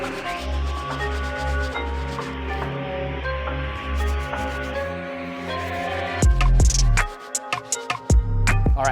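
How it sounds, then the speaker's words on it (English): A medium-bristle brush scrubs white leather and stitching on a worn Air Jordan 1 sneaker in steady, rasping back-and-forth strokes. The scrubbing is close and fairly loud, with a few sharper scrapes near the end. "Our next brush we're gonna be using is the medium bristle. We're gonna be focusing on getting this white leather as white as possible."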